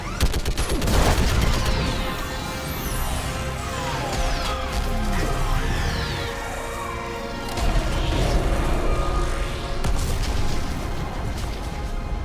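Gunfire in the video game Mass Effect 3: dense, continuous volleys of rapid shots and heavy booms, loud and sustained throughout with layered explosions and crashing impacts.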